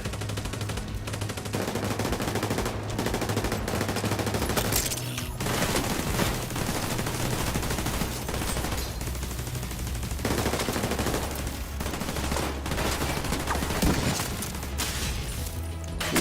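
Sustained gunfire from a realism-mode shooter game, an M1A rifle among it, with dense bursts and fusillades rolling loudly through the whole stretch, heavy low rumble underneath and brief dips between volleys.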